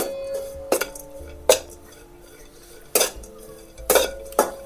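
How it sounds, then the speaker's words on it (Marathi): Crushed peanuts being stirred into a wild leafy vegetable in a pan: a spoon scrapes and clanks against the metal in several separate sharp hits, close up, with a faint ringing tone between strokes. "आता मी शेंगदाणाचा कूट टाकून घेते हलवून घेते"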